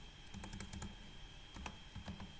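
Quick bursts of clicking keys on a computer keyboard while writing code, irregular clusters of taps over a faint steady hum, close and quiet.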